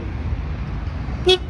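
A Honda PCX 150 KF12 scooter's horn gives one short, loud beep over a steady low idle hum.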